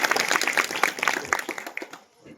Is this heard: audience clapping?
yes